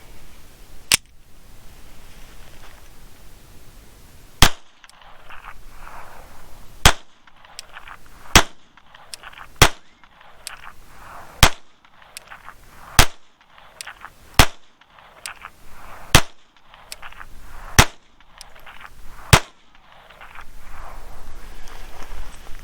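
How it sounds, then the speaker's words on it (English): Ruger Mark IV 22/45 Lite pistol fires Remington bulk .22 rounds at a range, about a dozen sharp cracks in a steady, unhurried string, with faint background noise between them. "I'm shooting some Remington bulk pack on this"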